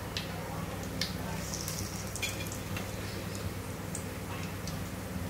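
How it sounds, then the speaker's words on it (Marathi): Cumin seeds being tempered in hot oil for a Maharashtrian mixed-vegetable bhaji give a steady, moderate sizzle with faint scattered ticks and pops throughout. "यामध्ये थोडस मी जिरं टाकते फोडणीसाठी"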